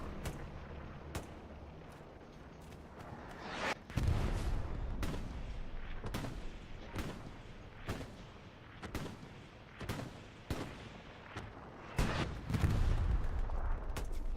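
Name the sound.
gunfire in the video game Hell Let Loose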